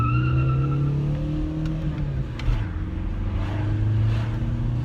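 A Lamborghini Aventador SV's engine revs loudly inside a tunnel, a sustained, booming roar that dips briefly and then climbs again as the car accelerates.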